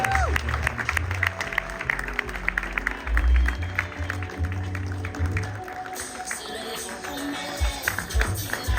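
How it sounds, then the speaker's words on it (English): An audience at an outdoor event in Soweto claps steadily for an honoured guest, a sustained spread of hand claps with crowd murmur and some voices underneath. "a very big round of applause for this pioneer in sports in the country"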